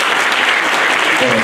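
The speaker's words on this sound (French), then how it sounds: "Est-ce qu'on peut applaudir, pas pour eux, mais pour le Seigneur?" Congregation applauding in church during a ceremony welcoming newly baptized members, a loud, dense wash of clapping with a voice faintly rising near the end.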